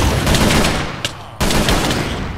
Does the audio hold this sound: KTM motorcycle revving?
no